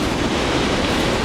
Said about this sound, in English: when the waves break over it like that